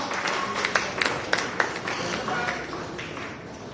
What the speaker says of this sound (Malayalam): നല്ലൊരു കയ്യടി കൊടുക്കാം കേട്ടോ.